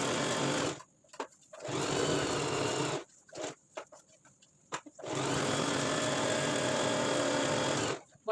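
A sewing machine stitches the folded bottom hem of a churidar in three loud, steady bursts separated by short pauses, with no talking.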